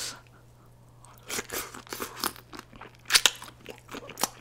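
Crunchy chewing of shrimp from a honeycomb pizza and pasta meal, with close, loud bites and crackly crunches repeating irregularly after a quiet start, no talking.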